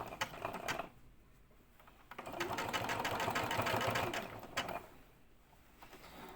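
A home sewing machine stitches clothing being mended in one sustained run after brief starts, a fast close mechanical whir that rises in the middle and tapers off, with faint clicks around it.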